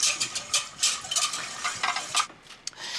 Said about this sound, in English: We whisk it a little bit to mix all the ingredients.